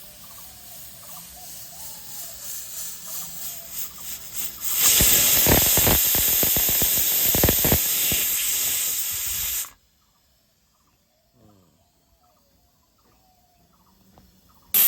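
A pressure cooker holding desi chicken vents a loud, steady hiss of steam for about five seconds, breaking sharply into quiet, with faint background sounds before and after.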